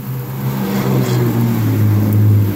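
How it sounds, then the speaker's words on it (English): A car on a highway beside a house in Los Banos, California, passes during a rainstorm. Its engine drone is loud and close, swelling and slightly rising in pitch over a couple of seconds. "There's a highway right next to us"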